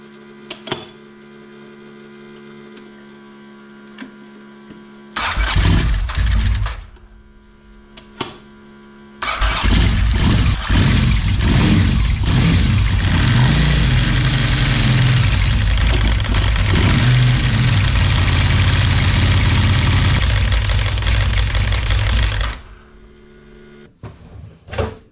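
A 1992 Ducati 900SS motorcycle engine cranks over and then fires, catching into a loud, steady rumbling idle that runs for several seconds before cutting off; close and dominant, with no talk.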